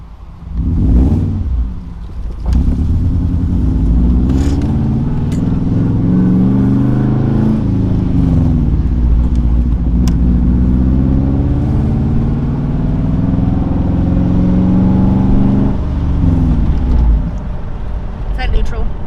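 An RS race car engine drones loud and close through a steady drive, with rising and falling pitch as the revs change, under speech from people inside the car.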